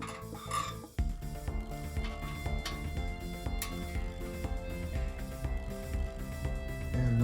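A Lectric XP e-bike's disc brake adjuster gives a single sharp click close up, with faint mechanical ratcheting and a ringing metallic tone after it.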